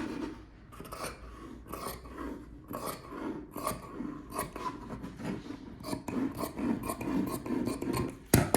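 Scissors cutting a small scrap of black fabric, a close, soft series of rhythmic snipping and rasping strokes that grow slightly louder toward the end.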